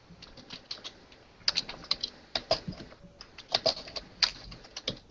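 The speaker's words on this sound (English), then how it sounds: "Sounds like you're typing on a keyboard." Rapid clattering keystrokes on a computer keyboard, typed in irregular bursts with a few louder taps, fairly close and alone with no voices.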